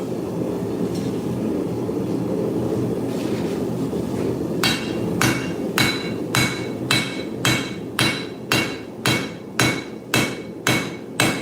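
A hand hammer strikes a steel spike during hand forging. Sharp, evenly spaced ringing blows begin about halfway through and repeat steadily over a low background hum, loud and close, with no voices.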